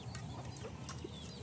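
Chickens roaming freely around a farm on a cool day, giving soft scattered clucks over a steady outdoor background, faint and somewhat distant with no talking.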